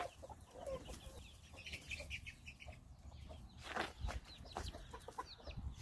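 Soft clucking and cheeping of a hen with chicks, close by, with scattered peeps and rustling over a low background hum.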